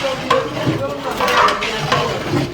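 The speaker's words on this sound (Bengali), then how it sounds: "মশলা এবং খাসির মাংসগুলো খুব ভালোভাবে ম্যানেজ করা হচ্ছে যাতে মশলাগুলো মাংসের মধ্যে পরিপূর্ণভাবে" Goat meat and spices being stirred in a large pot for festival cooking, a close, continuous sizzle broken by repeated scraping and stirring strokes of a ladle.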